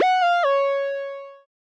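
Plain, unprocessed retro analog synth lead in a Section303 Ableton patch: a bright harmonic tone retriggered three times in quick succession, the last note held and fading out, heard alone.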